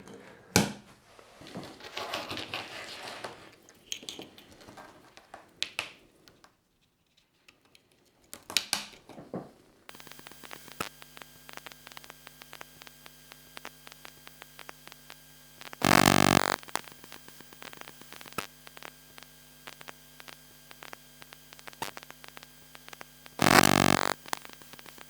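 A Raspberry Pi 4 booting up, picked up through an electromagnetic telephone pickup coil: steady electrical hum and whine with rapid digital buzzing and clicks, plus two loud bursts of static-like noise, close and alone.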